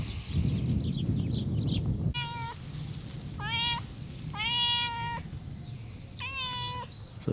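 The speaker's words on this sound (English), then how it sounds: "So here we have Mr. Cat, who likes attention." An attention-seeking cat outdoors in spring lets out four drawn-out meows in close succession, fairly near and clear over a low background rumble, with no talk.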